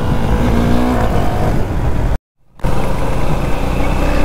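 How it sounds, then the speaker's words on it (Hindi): A car speeds past a group of motorcycle riders on a road, loud and close with a roaring engine sweep; a brief dropout interrupts the sound before the engine noise continues. "अभी ये कार को पार हो जाने देते हैं उसके बाद"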